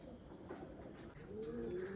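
Pigeons in a loft shed, soft low cooing murmurs through faint background noise, with a rising tonal call near the end; quiet and fairly close.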